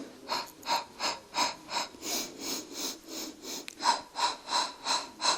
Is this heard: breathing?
yes